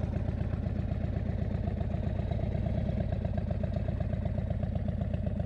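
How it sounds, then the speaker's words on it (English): Indian Chief motorcycle cruising on an open road, its engine a steady, continuous throbbing drone with clattering pulses and wind, loud and close throughout with no pauses. "riding this bike, out here on roads like this."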